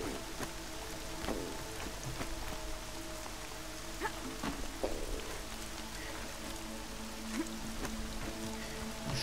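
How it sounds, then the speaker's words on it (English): Steady in-game rain falling outdoors in Horizon Zero Dawn, a constant hiss of drops pattering on surfaces with occasional sharper splashes, continuous and even throughout with no talking. "it rains as much as it does here in, like, over here"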